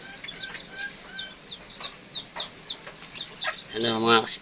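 Serama bantam chickens cluck in short, quick bursts, with a louder crowing-like call near the end, fairly close and alone.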